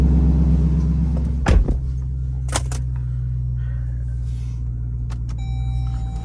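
Low, steady engine rumble from an SRT Jeep cruising at night, a constant deep drone with a brief thump and a couple of faint clicks partway through, no talking.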